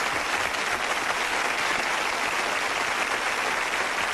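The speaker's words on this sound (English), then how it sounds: "How about a round of applause for the world's fastest court reporter?" Steady, dense audience applause for a rap performance at a fastest-rapper record attempt, loud and continuous throughout with no speech over it.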